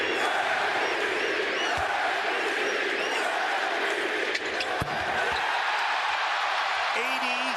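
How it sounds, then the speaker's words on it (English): A basketball arena crowd cheers and roars in a dense, sustained wall of noise, with an announcer talking over it. "He will come out of the game and hear it from the crowd."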